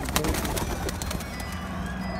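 Pigeons on a rooftop coo softly in low, throaty calls amid wing flutters and outdoor background noise, fairly close.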